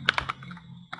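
Quick keystrokes on a computer keyboard: a short burst of three clicks, a brief pause, then a couple more taps, crisp and close in a quiet room.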